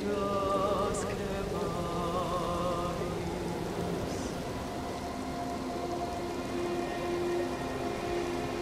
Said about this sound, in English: The year-round rain that douses the Weeping Peninsula leave no plants wanting for water.